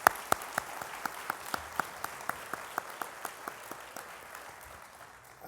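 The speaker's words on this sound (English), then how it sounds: "let's have another round of applause for that inspiring message from Secretary Perez" An audience at a panel session on global innovations gives a round of applause, heard as a steady run of distinct, evenly spaced claps that slowly fade out, set against a faint room background.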